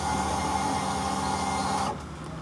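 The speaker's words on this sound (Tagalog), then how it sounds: "tumutunog yung ating fuel pump mga katropa" A motorcycle fuel pump runs with the ignition on, giving a steady close electric whine and hum that holds evenly, then cuts off abruptly near the end, leaving quieter background noise.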